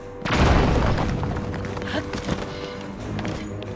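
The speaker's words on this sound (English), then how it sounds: "We'll throw a bomb." In The Legend of Zelda: Tears of the Kingdom, a thrown bomb detonates with one loud, deep boom that rolls off into a fading rumble and scattered debris clatter.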